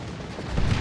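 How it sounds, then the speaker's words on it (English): Off-map artillery strike in the Warhammer 40k: Dawn of War 2 strategy game, a dense rumbling barrage of booming impacts that swells louder toward the end of a brief moment. "it was the off-map artillery"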